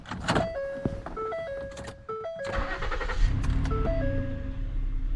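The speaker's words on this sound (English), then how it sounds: "I'm gonna start the car again since I put that thing in" A 2013 Ford Edge cranks and starts, its engine settling into a steady idle, with a series of dashboard chime tones sounding over the start-up.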